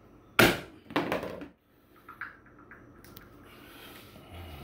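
A scored LifeProof vinyl floor plank snaps with a sharp crack, followed by a second muffled break and a few light handling knocks, close by in a quiet apartment.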